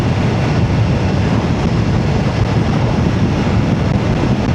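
Strong, steady wind buffets the microphone while riding a 2025 BMW F900R motorcycle, a constant low roar with gusty rumble and no pauses throughout.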